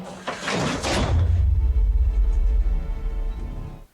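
A heavy door closes in a film scene, landing as one loud low thud after a brief scrape, then a long rumbling resonance that fades over several seconds, with no voices.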